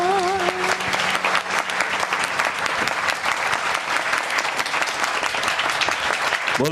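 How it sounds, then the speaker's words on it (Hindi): A church congregation claps hands in praise during worship, a dense, steady wall of applause lasting throughout, loud and continuous, with a brief sung tone at the start. "सब लोग ताली बजाएंगे प्रभु के लिए।"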